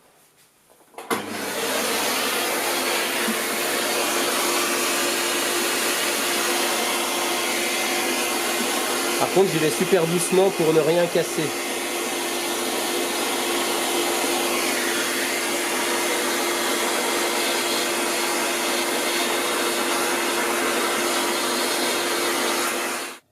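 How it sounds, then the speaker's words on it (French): A vacuum cleaner runs over an old 1930s valve radio, its steady broadband whine switching on after a second and holding loud and even to the end, with someone briefly speaking over it midway. "Et là je passe l'aspirateur"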